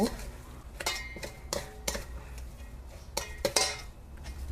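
Noodles being tossed with garlic-oil sauce in a bowl, with repeated clinks and scrapes of utensils against dishware coming in irregular bursts, close and moderately loud, and a voice faintly in the background.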